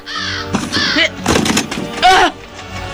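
Several raspy crow caws sound near and loud in quick succession, with a faint thud mixed in.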